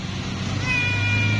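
A stray kitten living in a woodpile meows, with a high wavering cry rising near the end of the short stretch over a low steady background hum.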